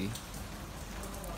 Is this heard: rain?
yes